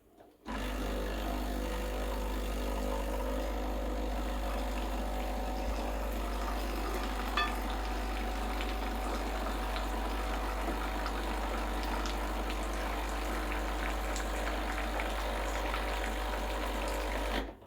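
A steady hiss of hot water streaming from a Breville Barista Express BES870 espresso machine over a constant pump hum, loud and unbroken for the whole stretch, with no talking.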